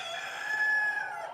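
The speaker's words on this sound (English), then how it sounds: "there's a little rooster there" A rooster crows in one long, sustained call, fairly close and clear, with no talking.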